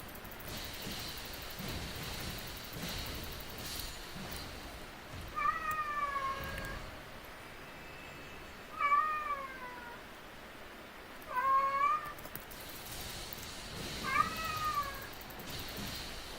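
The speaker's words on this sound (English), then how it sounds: "My cat is meowing." A house cat meows four separate times, each a short rising-then-falling cry spaced a few seconds apart, heard fairly close over a quiet indoor room tone with no talking.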